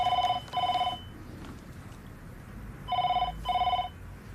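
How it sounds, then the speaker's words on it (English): A telephone rings in two double bursts, each a pair of short trilling electronic rings, separated by a pause of about two seconds over quiet room background, fairly close and clear with no talk. "phone ringing"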